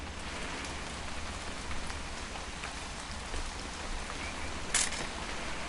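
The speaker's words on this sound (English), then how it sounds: "It's gonna rain the whole weekend, isn't it?" Steady rain falls in the video game What Remains of Edith Finch, a soft, even patter of drops on surfaces throughout, with a brief sharper click near the end and no talking.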